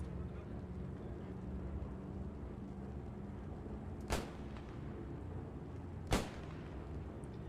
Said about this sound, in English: Some more shots coming in.